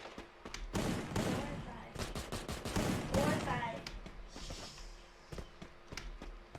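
Repeated gunshots and rapid bursts during a chase in Free Fire, fairly close, mixed with footsteps and faint game sounds, with louder clusters early and sparse single shots later.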